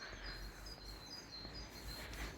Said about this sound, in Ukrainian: Як же тут гарно зараз співають пташки.